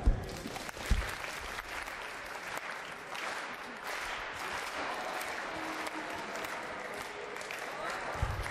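Audience applause at a sports-faculty open day where a football demonstration has just been shown, steady dense clapping sustained throughout with a few louder bursts near the start and end.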